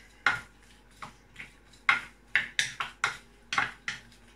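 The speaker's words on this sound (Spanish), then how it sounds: "Y removemos todo" Garlic, peppers, onion and oil stirred in a pan, a spoon scraping and knocking against the metal in about a dozen distinct clinks and scrapes, close and fairly quiet, with faint sizzling underneath.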